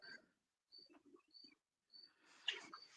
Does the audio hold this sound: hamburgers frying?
no